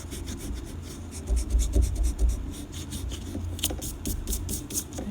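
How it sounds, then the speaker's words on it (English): Pencil eraser rubbing across paper to remove a drawn letter outline, a close, steady scrubbing rasp in repeated short strokes, with brief heavier bursts of pressure partway through. "with my eraser, I am going to simply erase my first line"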